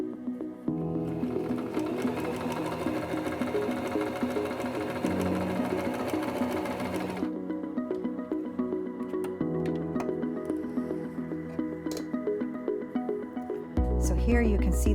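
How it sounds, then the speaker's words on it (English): A SINGER M2400 sewing machine runs a long straight stitch with a continuous whirring motor and rapid needle clatter, pausing and restarting near the middle, then a brief thump at the end. "see what it looks like when we sew our straight stitch with a longer stitch length setting"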